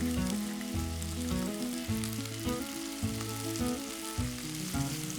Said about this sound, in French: on va faire revenir le tout dans une cocotte avec un petit peu d'huile de pépin de raisin